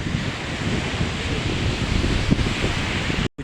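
Hot midday wind blows along a street in Kozhikode, a steady, rough rush with buffeting against the microphone that continues without letup before a brief dropout at the very end.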